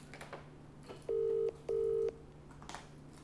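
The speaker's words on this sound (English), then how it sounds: "Answer that phone." A telephone call rings out through the line: two long, steady electronic ring tones separated by a short pause, over a low background hum and faint room noise.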